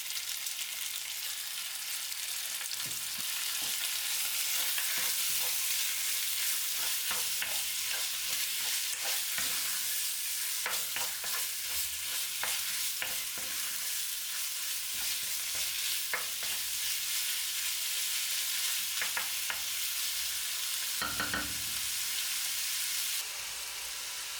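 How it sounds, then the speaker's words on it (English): Pork searing in a hot pan, a steady close sizzle lasting throughout, broken by scattered sharper scrapes and taps from stirring; no voices. "add the pork to the pan and sear it quickly just to lock in the juices"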